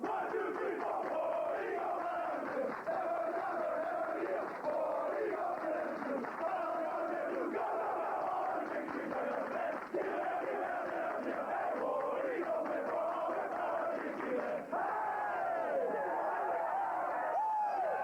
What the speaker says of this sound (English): Let's get that cheer going, man.